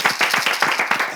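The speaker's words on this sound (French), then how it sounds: "mais applaudissez pour moi" Short burst of audience clapping at a Togolese live show, a handful of people clapping in a quick, slightly uneven rhythm, fairly close and loud, with no talk over it.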